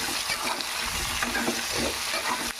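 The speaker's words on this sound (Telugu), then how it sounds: "పచ్చిమిర్చి ముక్కలు కూడా వేసుకుందాం. అవి బాగా వేపుకుందాం. ఇందులోకి కొంచెం పసుపు వేసుకుందాం. ఇదండి బాగా అటు ఇటు తిప్పుకుందాం." Green chilli pieces sizzle steadily in a hot pan as turmeric is stirred in, with soft scraping of the spoon against the pan under the constant frying hiss.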